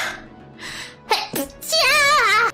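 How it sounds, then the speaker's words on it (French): A sneeze sound effect played during a French stand-up comedy set: a short inhaled build-up, then sharp explosive bursts, followed by a drawn-out wavering vocal tail, loud and close. "on va remettre l'éternuement."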